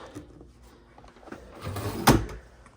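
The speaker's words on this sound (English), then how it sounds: "Drawer here with a Bible, and then some extra storage underneath" A dresser drawer in a Disney Old Key West deluxe studio hotel room slides open in one short, fairly close scrape and bump, preceded by faint handling sounds and a quiet room.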